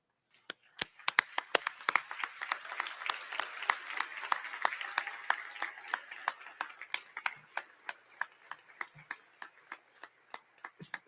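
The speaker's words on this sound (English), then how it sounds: "I ask you to rise and give all these people a big round of applause." An audience at a Wayne State University winter commencement claps in a round of applause, many sharp hand claps building into a soft patter, then thinning to scattered, distinct claps at a modest distance.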